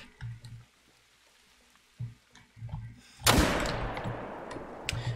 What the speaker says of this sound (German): war jetzt auch nicht der anspruchsvollste Schuss